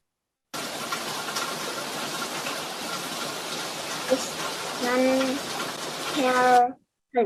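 Steady hissing rain pours down without a break, with a few brief voices rising near the end.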